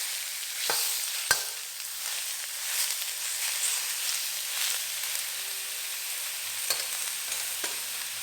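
Pork stir-fries in oil with mushrooms and tofu, a soft continuous sizzle close by, broken by a few sharp utensil taps and scrapes against the pan, with no talking.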